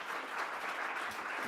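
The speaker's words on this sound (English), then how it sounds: "If I can have a round of applause for our panelists." Audience applause at a Georgetown tech law panel event on children's privacy, a steady burst of clapping filling the room for a short moment, with no talk over it.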